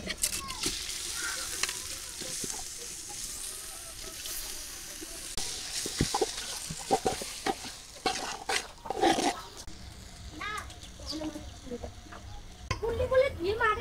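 Rice frying with onions, cloves, cinnamon and cardamom in a pan, a close crackling sizzle with intermittent stirring scrapes and clatter, varying in intensity, with occasional faint voices in the background.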